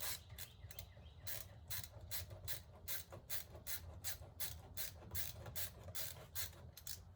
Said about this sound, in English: Now that we've loosened the clamp